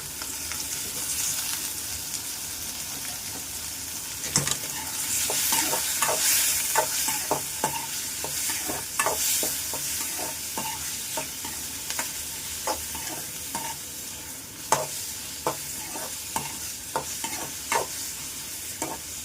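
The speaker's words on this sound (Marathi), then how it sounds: "कोळंबी अशीच फ्राय करून घ्यायची अगोदर" Prawns frying in a pan with onion, curry leaves and a little salt, a steady sizzle broken by frequent spatula stirs and scrapes, close and moderately loud, with no talking.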